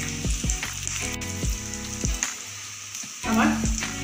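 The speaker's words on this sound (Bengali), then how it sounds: "এইভাবে আমি ভালো করে উল্টে পাল্টে ভেজে নেব" Egg chops (egg devils) fry in hot oil over a medium-high flame, giving a steady crackling sizzle scattered with sharp pops and spatters, close and fairly loud throughout.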